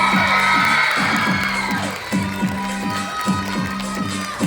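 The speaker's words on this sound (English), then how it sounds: "Let's give them a big round of applause." Audience at the Little Hmong Princess 2026 pageant finale clapping, cheering and shouting for the contestants, with children's high-pitched shouts prominent in a loud, sustained burst of crowd noise.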